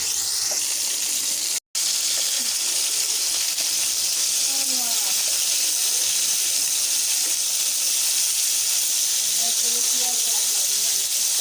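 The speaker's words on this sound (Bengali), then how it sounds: "এটা কিন্তু ব্রয়লারের মুরগির মাংসটা এখন ভালো করে ভেজে নেওয়া হবে।" Turmeric- and salt-coated broiler chicken pieces frying in a pan, a steady, close sizzling hiss that runs almost unbroken, with one brief cut of silence early on.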